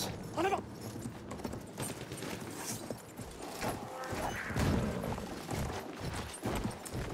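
Horse hooves galloping in the World War I shooter Battlefield 1, a steady clip-clop rhythm running under dense battlefield noise throughout, moderately loud and close.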